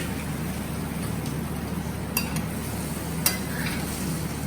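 A spoon stirs sweet and sour sauce with sugar settled at the bottom of a pan, a soft continuous scraping swirl over a low hiss, with two sharp metallic clinks partway through and no talk.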